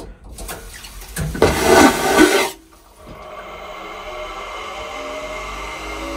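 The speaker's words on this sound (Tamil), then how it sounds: "இங்கே பாருங்கள், ஃப்ளஷ் பண்ணுறதுக்கு வந்து சுவிட்ச் இருக்குது." A train toilet flushes with a loud burst of rushing, gurgling water that lasts about a second and a half, then stops abruptly, leaving a steady rumble of the moving carriage.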